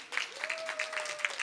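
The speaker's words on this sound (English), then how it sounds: "Could we please give them another round of applause?" Audience applause at a peace and harmony event, a short burst of brisk clapping heard at a moderate distance, with a faint sustained tone running beneath it.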